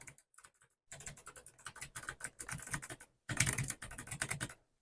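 Rapid, clicky typing on a NocFree Lite mechanical keyboard in quick bursts, close up, with a brief pause midway before another flurry of keystrokes.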